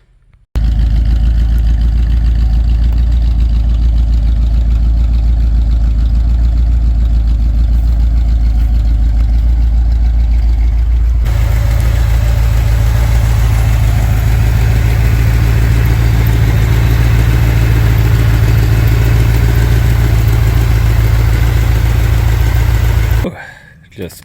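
A 1964 Ford Thunderbird engine runs steadily at idle for about 23 seconds, a loud, continuous low rumble that deepens and strengthens partway through, then cuts off near the end.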